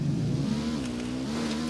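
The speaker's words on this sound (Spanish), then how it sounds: "Voy a coger la moto." A motorcycle engine in Ghost Recon Wildlands revs and holds a steady droning pitch that dips and climbs slightly, loud and close, with no voices.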